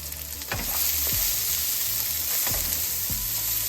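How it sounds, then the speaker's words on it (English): Meatless walnut taco meat frying in a skillet, a constant close sizzle broken by several sharp knocks and scrapes of a utensil stirring in the pan. "So I got my meat. I'm gonna add it into my skillet."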